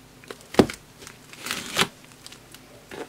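A knife working at stiff plastic mail packaging, with a few sharp crinkling, scraping and tearing bursts separated by pauses, close and moderately loud, with no talking.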